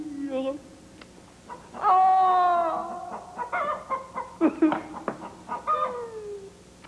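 A hen clucking and squawking close by, with drawn-out cackles and short clucks in an uneven rhythm.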